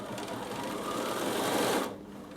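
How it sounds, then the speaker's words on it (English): A Bernina B435/B475 sewing machine runs steadily through a fancy decorative stitch pattern, a close, continuous motor whir that stops abruptly after about two seconds, with no talking. "I can actually push pattern end, keep sewing it will stop at the end of the pattern"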